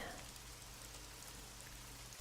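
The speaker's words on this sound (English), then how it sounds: "The rain keeps falling, and I keep driving." Rain falls during a long drive in the Fortnite video game, a soft, steady hiss of drops continuing evenly and faintly throughout.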